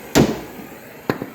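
A hammer beats a nut loose while a tow hitch is fitted to a 2004 Dodge Dakota, two sharp metallic strikes about a second apart, close and loud.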